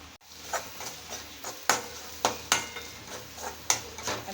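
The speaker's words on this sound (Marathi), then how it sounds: "व्यवस्थित असं तो मसाला कांद्यामध्ये परतून घेऊया" Homemade Malvani masala being sautéed with onions in a pan, a soft sizzle under a regular series of spatula scrapes and clinks against the pan, about one each half second, no voices.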